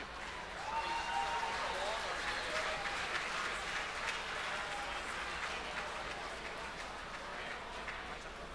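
Audience at a business award ceremony breaking into sustained applause, a dense wash of clapping that holds steady for several seconds before easing slightly, with a few faint voices underneath.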